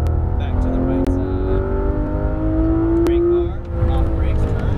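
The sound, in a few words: Ferrari F12 engine accelerating at full power on track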